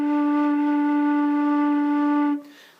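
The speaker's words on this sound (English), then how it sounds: "Low D sounds like this" A flute holds a steady low D, a single sustained tone with bright even overtones, played loud and close for over two seconds before cutting off cleanly.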